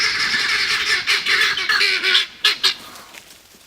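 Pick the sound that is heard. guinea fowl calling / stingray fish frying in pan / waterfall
guinea fowl calling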